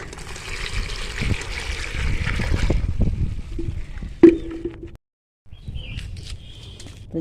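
Water poured into a homemade garden fertiliser mix, a close trickling, splashing pour for about three seconds that tapers off, followed by a brief knock, a pause and faint handling sounds.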